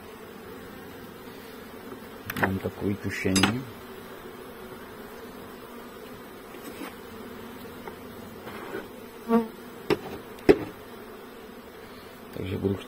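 Honeybees in an opened, weak colony hum in a steady close buzz, with occasional louder passes near the listener and a few words spoken over it.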